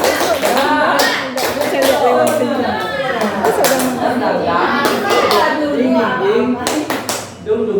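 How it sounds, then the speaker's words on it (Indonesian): A group performing a rhythmic spirit clap in a teachers' gathering, sharp patterned hand claps in quick bursts with pauses, loud and close, voices chanting and calling along between the beats. "Tepuk semangat."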